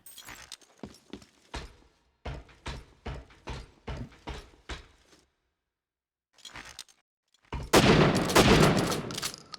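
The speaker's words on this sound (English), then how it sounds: "That shotgun really does some crazy damage." Shotgun blasts in Syphon Filter: The Omega Strain fire in a quick run of sharp, evenly spaced reports, then a pause, a brief burst and a dense, loud final volley with a crashing, breaking edge.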